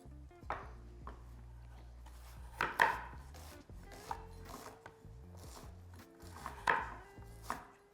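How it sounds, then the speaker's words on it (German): Knife chopping onions and carrots into small dice on a board in a home kitchen: irregular close, crisp taps in scattered bursts, a few louder strikes, with faint background clatter. "Zwiebeln in Würfel schneiden und auch die Möhren in Würfel schneiden"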